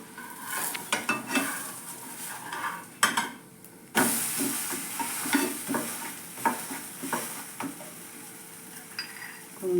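Raw ration rice adai batter frying in oil on a pan, a steady close sizzle broken by scraping and stirring clatter as the pancake is turned, with sharper spatula knocks around the middle.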